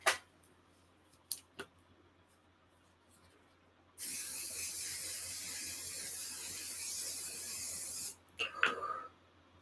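A can of Bulletproof makeup setting spray releases a steady, close hiss lasting about four seconds, preceded by a few small clicks of the nozzle and followed by brief handling rustles.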